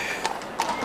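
Horses' hooves clip-clopping during a Holy Wednesday procession, two crisp hoof strikes in quick succession over a steady outdoor background hum.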